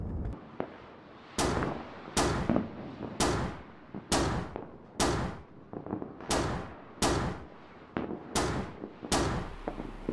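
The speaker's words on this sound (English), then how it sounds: "So let's see if the mortar's accuracy has changed any. Hello, fire mission, over!" Mortar fire mission in the Combat Mission tactical war game, a series of about ten loud booming explosions at irregular intervals, each a sharp blast with a short rumbling tail, no talk.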